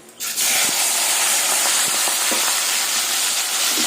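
Shrimp dropped into hot oil in a pan, left over from frying potatoes, burst into a loud, steady sizzle and hiss that rises abruptly after a brief quiet start and holds close and continuous.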